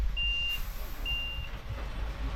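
A truck delivering 40 tonnes of material to a building site gives two clear reversing beeps, each about half a second long, over a low engine rumble.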